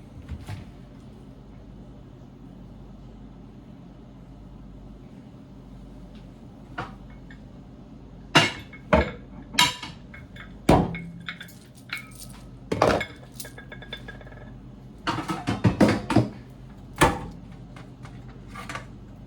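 Dishes and cutlery clink and clatter in sharp, irregular bursts as someone rummages through a kitchen cupboard, with occasional cupboard knocks over a quiet room background.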